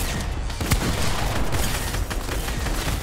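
Sniper rifle gunfire in the Fortnite video game, a few sharp reports standing out over constant dense game noise and explosions.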